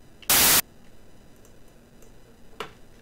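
A short burst of loud white noise sample plays in Renoise, a sudden harsh hiss lasting about a third of a second, followed by quiet background and one faint later blip.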